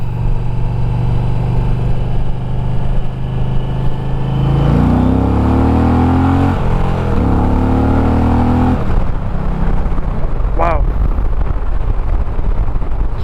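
A 2021 Indian Challenger motorcycle in sport mode revs up through rising harmonics, dips briefly, then climbs again before cutting off, loud and close, with a brief high whine near the end.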